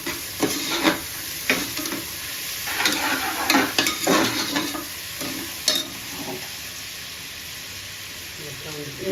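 Curry leaves and green chillies sizzle in hot oil in a pan for mutton biryani, a steady crackling fry with clinks of stirring and scraping throughout, loud and close with a louder burst partway through; no talk.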